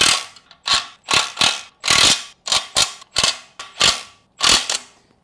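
Torque wrench clicking and ratcheting while tightening flex plate adapter bolts on a C6 Corvette, about a dozen sharp close mechanical bursts in an uneven rhythm with no talk.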